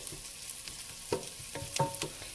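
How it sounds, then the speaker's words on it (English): Collard greens frying in bacon grease, a steady close sizzle with occasional bursts and stirring scrapes, no talking. "I'm going to go ahead and start frying my collard greens"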